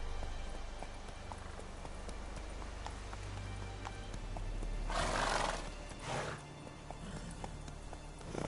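Roach, a horse in The Witcher 3, gallops along in steady clip-clop hoofbeats over a low rumbling game soundscape, with a couple of brief whooshing bursts and a short whinny-like sound partway through.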